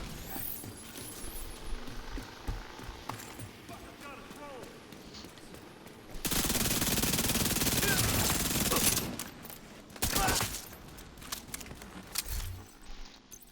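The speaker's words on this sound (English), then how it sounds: "I'm under fire." Video game gunfire erupts as a loud, dense sustained burst of automatic fire, followed by a shorter volley, over continuous battlefield noise, with a player talking at times.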